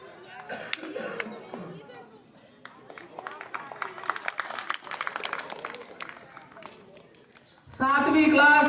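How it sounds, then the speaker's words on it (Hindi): Crowd clapping for prize-winning students at a Republic Day school function: a steady patter of claps from about 2 to 7 seconds, thinning amid speech-like activity, then a loud burst of other sound at the end. "तालियां बजा दे रहो"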